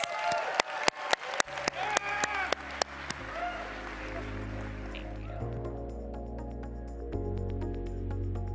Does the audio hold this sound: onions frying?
no